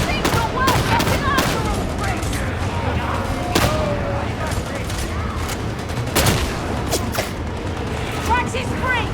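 Gunfire in Warhammer 40K Darktide during a Damnation-difficulty fight, with a veteran's shotgun among the weapons: dense, loud volleys of rapid shots and sharp blasts crackle continuously while shouted voices call out over the battle.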